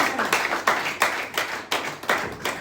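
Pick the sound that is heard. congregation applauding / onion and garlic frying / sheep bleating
congregation applauding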